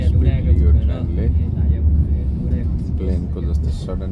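A Chinese bullet train hums and rumbles steadily from inside the carriage as it gathers speed, the low drone running under a person talking throughout.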